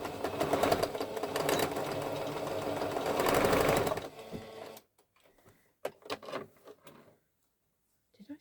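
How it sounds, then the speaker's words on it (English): A sewing machine stitches straight across fabric in a fast, steady whir for about four seconds, then stops, followed by quieter clicks and handling noises. "I am going to sew straight across"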